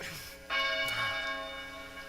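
Church bells peal out during a stage production of A Christmas Carol, starting suddenly after a brief pause and ringing loud and sustained, with a faint voice just before them.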